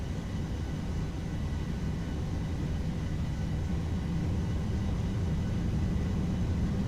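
Boeing 737-800 engines at takeoff power in a flight simulator give a steady, deep, continuous roar and rumble with no break or voices.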